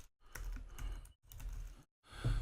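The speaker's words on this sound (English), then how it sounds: "So if I just start typing" Short bursts of typing clatter on a computer keyboard, quiet and close, in three clusters separated by brief silences.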